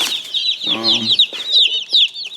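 Cornish cross meat chickens chirp and cluck continuously and loudly up close, high peeping calls overlapping with a brief lower call in the middle.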